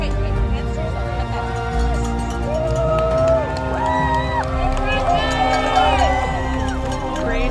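Spectators cheering runners along an Ironman race course in Juneau, Alaska, with loud continuous shouts and whoops layered over crowd chatter and outdoor noise.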